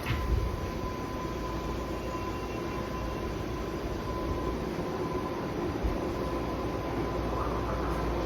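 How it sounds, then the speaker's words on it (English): An old six-car BART train for San Francisco and Daly City rolls toward platform 2, a steady rumble and rail hiss with a faint tone, sustained and moderately close. "we have the old 6 car OAK San Francisco Daly train, approaching platform number 2."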